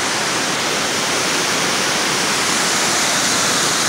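Water pouring over a dam at Lake Newport in Mill Creek Park near Canfield, Ohio, a steady broadband roar that stays loud and constant throughout, with no voices.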